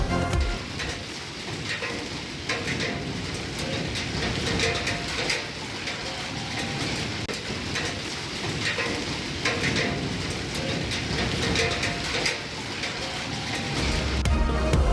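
Heavy stormy rain falls in a Pakistani city as a steady, close spatter that continues throughout, with faint bird calls and scattered background noises underneath.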